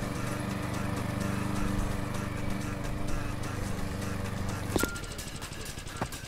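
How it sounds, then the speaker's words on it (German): A lawn mower engine in the video game House Builder drones steadily and evenly at moderate loudness, then cuts off with a clunk near the end and leaves only a lower background hum. "Rasenmäher versenkt."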